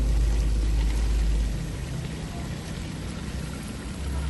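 Boiled, strained turnips tipped into a hot pan, a loud wet rush and sizzle at first that settles into a steady softer crackle, no talking.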